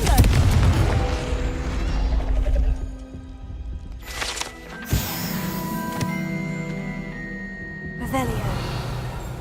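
Confringo fire spell bursting in the game Hogwarts Legacy, a deep boom followed by a sharp blast and lingering rumble, set among busy layered game effects and music.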